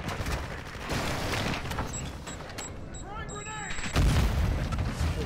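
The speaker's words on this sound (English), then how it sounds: "Friendly airstrike on the way." Airstrike explosions in the video game Call of Duty DMZ, with deep rumbling blasts and crackling gunfire layered under radio callouts, ending in a heavier booming impact.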